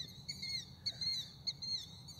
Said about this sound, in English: for decades, I've heard these birds, even in the middle of the night.